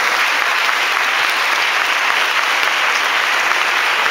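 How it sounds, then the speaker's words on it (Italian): A large audience at a high school benefit concert in Vercelli applauds, a loud, dense, unbroken wash of clapping that holds steady throughout without talk. "Quindi voglio ancora un grande applauso per loro."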